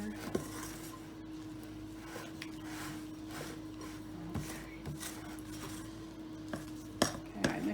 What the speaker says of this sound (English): I'm going to blend it so that everything gets wet.